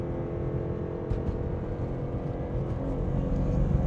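A BMW M4 Competition with a turbocharged engine accelerates hard in a drag race, giving a steady, loud, broadband roar that swells slightly toward the end, with no talking over it.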